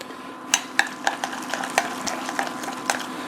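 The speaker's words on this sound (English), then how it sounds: "You gotta stir this really good." Spaghetti carbonara stirred in a pan, a quick run of clinking utensil strokes against the pan over a soft sizzle, close up and without voices.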